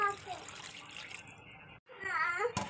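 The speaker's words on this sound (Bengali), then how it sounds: "একটু দিয়ে দেবো অল্প একটু জল" Water pours in a steady splashing stream into a pot of light Bengali fish curry, stopping briefly before a second pour with a bubbling, gurgling tone, close and fairly loud.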